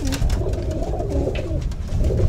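Racing pigeons cooing close by in a loft, soft repeated throaty coos overlapping with faint rustling and no talk.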